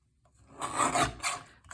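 Paper or card stitching is trimmed off as part of a card-making and craft project with the Linked Together bundle, giving a short close rasping cut of about a second that rises and fades in two quick strokes.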